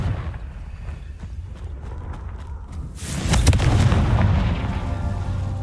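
Confringo fire spell in the Hogwarts Legacy video game, heard as a loud, rumbling blast that erupts about halfway through after a quieter stretch of low rumble, then lingers and slowly fades.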